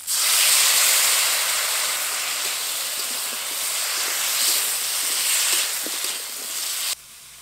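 Spiced water poured into vegetables frying in a pan for shukto, making a loud hissing sizzle that swells and slowly settles before cutting off near the end, with no voices.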